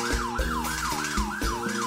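A siren sound effect in a live baião music set wails in rapid, repeated rising-and-falling sweeps over a thumping bass beat, loud and close.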